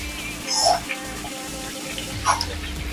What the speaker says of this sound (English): this is my tomatoes, please. You can see I'm going to pour it inside my